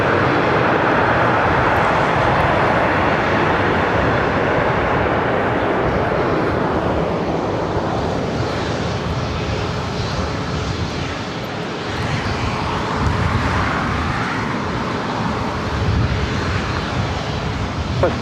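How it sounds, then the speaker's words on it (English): A Southwest Airlines Boeing 737-700 jet arrives at LAX from Oakland, its loud, broad engine roar swelling and fading as it passes, with faint talk beneath. "Southwest Airlines 2979 coming in from Oakland on a"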